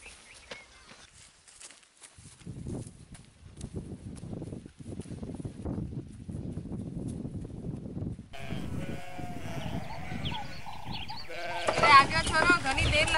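Hungry sheep bleating in a rural flock, with repeated overlapping cries and some hoof shuffling, growing busier and louder toward the end as people talk over them.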